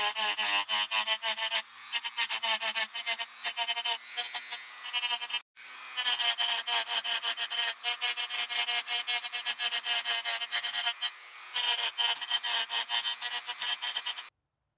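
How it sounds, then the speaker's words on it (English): A sanding block wrapped in sandpaper rubs hand-stroked over the metal of a Handyman Hi-Lift jack under restoration, giving loud, steady, rhythmic rasping back-and-forth strokes with one brief pause midway. "I wrapped sandpaper around a wood block and smoothed everything out."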